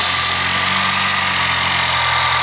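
A Toyota 4Runner's 4-cylinder engine idles steadily at close range, a constant rough mechanical drone with a low rumble and no voices.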